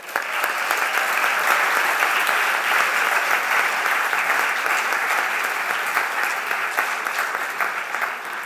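Sustained applause from a large audience at a medical school graduation ceremony, dense and steady for the whole stretch, with no voices over it.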